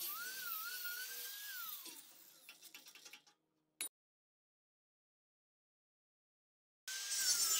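An angle grinder cuts a chamfer into 10 mm thick steel flat bar, a loud high whine that shifts pitch under load, rattles down, then stops into silence before a short burst and a restart.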